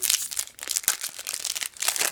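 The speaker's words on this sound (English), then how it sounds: "The crumple of packs as they open." Trading card booster packs from a Yu-Gi-Oh style game being crumpled and torn open, a dense run of close, loud crinkling and crackling foil wrapper noise with no one talking.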